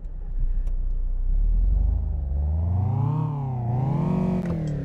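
A Jeep Wrangler engine heard from inside the cabin in the City Car Driving game, a loud steady drone that rises and falls as the revs climb, dip and climb again, with no talking.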